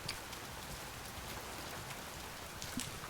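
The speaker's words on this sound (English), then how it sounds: "Oh, it started raining just when he had the fire." Steady rain falling in the Oceaneers survival game on an island, a constant soft hiss of drops, even and unbroken, with no voices.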